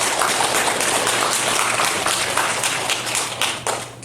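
Church congregation applause during a Sunday worship service: a continuous wash of many hands clapping together for about four seconds, loud and close, thinning slightly at the end, with no talk.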